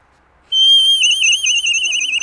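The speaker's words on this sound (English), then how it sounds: "the traditional bird caller was very interesting." A traditional Romanian bird caller whistle is blown: one loud, clear, high sustained whistle that warbles and trills, starting abruptly after a short silence and held close to the microphone.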